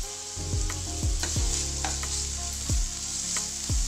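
Ginger garlic paste sizzles steadily as it sautés in a pan for a quick breakfast dish, with a few sharp stirring clinks of a utensil scattered through the constant frying hiss.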